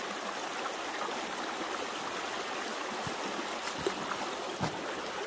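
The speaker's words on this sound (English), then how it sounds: "I'm gonna dump this excess water off." Excess water poured off a gold pan at a creek while prospecting, a steady close running-water wash with a few small splashes and no talk.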